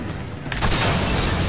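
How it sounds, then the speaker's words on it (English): A large explosion in the video game Army of Two: The Devil's Cartel, a dense roaring burst that swells midway and rumbles on with broad, sustained noise. "Whoa! Big explosion."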